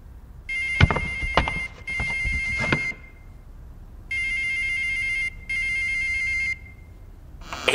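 A mobile phone rings in repeated electronic bursts, four ringtone phrases separated by short gaps, loud and close with some knocks under the first rings.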